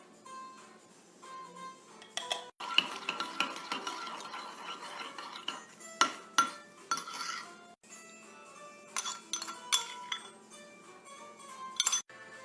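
Salt and cumin being stirred into yogurt in a bowl, a spoon clinking and scraping against the dish in repeated bursts, close and clear.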